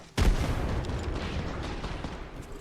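A grenade blast in the battle royale shooter Apex Legends, one sharp, loud boom that fades into a long rumbling roar and lingering noise over a couple of seconds.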